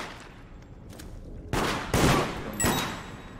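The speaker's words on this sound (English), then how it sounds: "Oh, you're shooting at those things." Several loud gunshot bursts ring out in a multiplayer horror game, three distinct heavy blasts spaced about half a second apart after a quieter lead-in with faint earlier pops.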